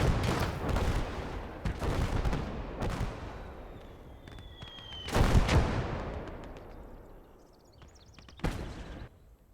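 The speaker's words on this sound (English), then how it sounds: "Yeah, that's definitely a mortar." Mortar and artillery fire in the WWII game Gates of Hell: repeated heavy booms and rumbling blasts overlap with scattered gunfire and a descending whistle, dense and loud throughout, with no speech.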